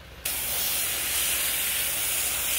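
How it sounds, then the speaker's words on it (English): Garden hose spraying green slimy pulp out of a harvested loofah at high pressure, a sudden loud steady hiss that starts abruptly and holds constant, close by. "go over here to the hose and spray that pulp out of it"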